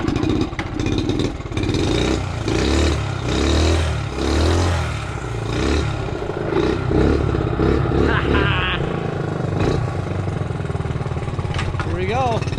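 A small Honda four-stroke motorcycle idles and revs steadily on a test ride, its engine note rising and falling close by, with a voice talking over it.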